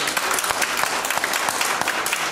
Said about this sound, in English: Give him one more hand clap.